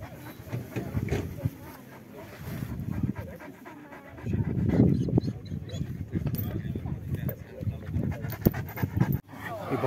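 A boxer dog pants at a crowded dog show in Timișoara, rapid steady breathing up close beneath ongoing talk and general hall bustle.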